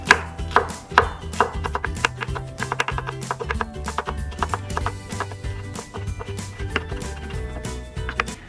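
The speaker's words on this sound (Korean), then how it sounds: "그래서 저희는 그냥 같이 이 줄기도 얇게 썰어서 넣어버립니다" A knife chops thinly through coriander stems on a board for a tomato salad, giving quick, loud, close taps in an uneven steady rhythm.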